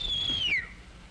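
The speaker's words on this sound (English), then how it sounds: "Did you whistle, sir?" A man gives a single quick whistle at a woman, a gliding tone that bends downward and ends abruptly, heard clearly alone in a 1951 romantic comedy scene.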